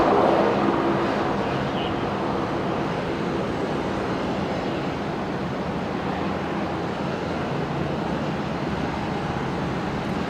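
Saab turboprop departing from runway 01 at Brisbane Airport at dusk, a distant broad roar that swells at the start and then holds steady as the aircraft climbs away.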